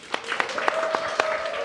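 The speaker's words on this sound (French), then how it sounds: "on applaudit pour lui et après les applaudissements" Children at a reading competition event clap briefly, a short burst of separate, fairly close handclaps over a faint steady tone.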